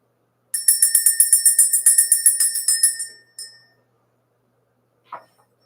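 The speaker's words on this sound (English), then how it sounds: "Let's go ahead and ring the bell." A small bell rung in a rapid series of about fifteen bright, ringing strikes lasting a few seconds, then one isolated ding and a faint final tap after a pause, clear and close in a quiet room.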